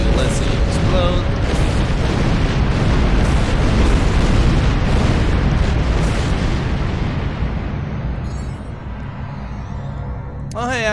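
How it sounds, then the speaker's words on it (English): A ship blowing apart in Star Trek Online: a loud, sustained roaring blast that rumbles for several seconds and slowly fades, with faint electronic game tones rising near the end. "let's see it explode"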